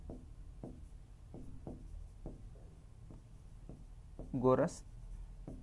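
A pen writing out a geometry answer on paper for a Maths practice paper, giving a run of soft, regular scratchy strokes under a man's steady Hindi speech.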